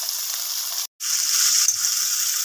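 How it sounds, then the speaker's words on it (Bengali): Potatoes and eggplant frying in hot oil with five-spice seeds and green chillies in a wok, a steady close sizzle that cuts out briefly for a moment, then resumes just as loud, with no talking. "গরম তেলে পাঁচফোড়ন, কাঁচা লঙ্কা দিয়ে সবজিগুলোকে ভালো করে ভেজে নেওয়া হচ্ছে।"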